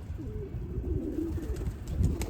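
Pigeons coo softly in low, rolling throaty calls, repeating several times close by against a faint background hiss, with no talking.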